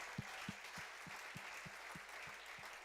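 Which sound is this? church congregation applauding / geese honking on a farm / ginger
church congregation applauding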